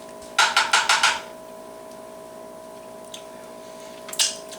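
A spatula presses down on a grilled BBQ chicken quesadilla, giving a quick run of five sharp scraping clatters, then quiet, then one more short scrape near the end, with no talk.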